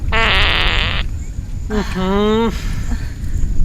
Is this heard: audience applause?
no